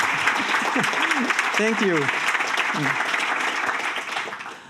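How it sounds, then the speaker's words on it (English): Sustained audience applause at a conference session on ensemble programming fills the whole stretch, loud and steady, fading slightly at the end, with a brief spoken thanks over it. "Round of applause, please, for the people."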